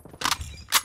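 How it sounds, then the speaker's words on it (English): A magazine change in Call of Duty Mobile: two crisp mechanical clicks and clacks, a short one followed by a sharper one a moment later, close and fairly loud, with no talking. "Changing mag."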